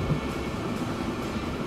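An early twentieth-century train in the Transport Fever video game runs at about 60, a steady low rumble and rolling drone at moderate level with no talk over it.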